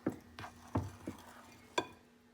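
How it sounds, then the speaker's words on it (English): Sourdough dough being stirred together from liquids, flour and salt, heard as a few separate soft scraping and knocking strokes against a bowl, close and quiet, with no talking. "And I'm just going to stir that together, the fluids, the liquids, with the flours and the salt."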